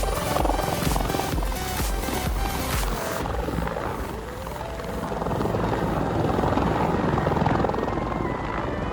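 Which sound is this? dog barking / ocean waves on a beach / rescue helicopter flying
rescue helicopter flying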